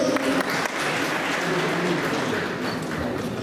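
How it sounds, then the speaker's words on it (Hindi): A crowd applauds at a school inauguration ceremony in Chamba, Himachal Pradesh, with loud, dense, continuous clapping that carries through the whole stretch, easing only slightly near the end. "Round of applause."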